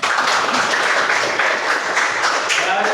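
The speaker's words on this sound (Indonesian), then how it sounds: "Tepuk tangan." A classroom of students applauds a group presentation on a school health lesson, steady dense clapping filling the whole stretch at close range with no pauses.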